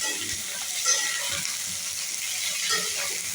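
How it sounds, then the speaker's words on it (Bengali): Cauliflower and eggplant pieces fry in a pan with a steady, moderate hiss and sizzle, with occasional soft stirring scrapes and no talk. "ডাইরেক্ট ভেজে নিচ্ছি"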